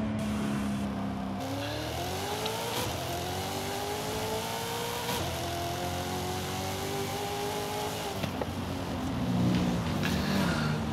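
Engine of a 1967 Corvette Stingray in Forza Horizon 5, drag tuned, rising through several gears as it accelerates, loud and steady, with brief drops in pitch at each shift and no talking.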